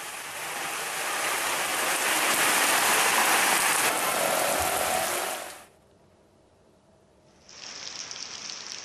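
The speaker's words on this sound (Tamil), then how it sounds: "பின்னர் திடீரென பெய்ய தொடங்கிய மழை சுமார் 1 மணி நேரம் கொட்டியது" Heavy rain pours down in a loud, steady broadband roar during a thunderstorm in northern Tamil Nadu, then drops out abruptly for about two seconds before a thinner hiss returns.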